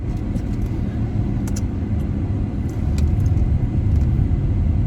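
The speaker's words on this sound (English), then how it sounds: "hold on guys, I'm driving" A car driving along the road gives a continuous low engine and road rumble inside the cabin, with faint light clicks and rattles over it.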